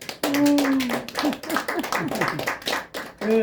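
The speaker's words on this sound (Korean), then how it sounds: "우리 한번 박수를 크게 한번 치시죠." At a meeting, the audience claps together in a burst of sharp, close hand claps that comes in uneven waves, with a few voices calling out over the clapping.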